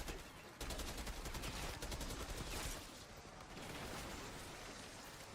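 Guns fire rapidly at zombies in Call of Duty zombies mode, a dense continuous volley of loud automatic shots with a brief pause midway.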